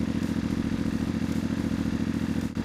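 A 2027 CFMOTO IBEX 450 motorcycle idles on its stock exhaust, a steady, close, low throbbing rumble that holds evenly throughout with no talking.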